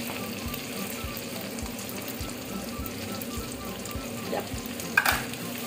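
Habanero peppers sizzle steadily in a hot pan while a spoon stirs them in a regular scraping rhythm, close up, ending with a brief sharper clatter.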